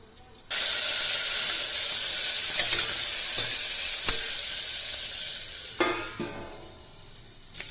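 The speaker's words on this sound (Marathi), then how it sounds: "आपले कारले चांगले तेलामध्ये कलसवले गेलेले आहेत" Stuffed bitter gourds fry in oil in a pan, giving a loud, steady sizzle up close that fades slightly toward the end, with a few clinks and stirring sounds.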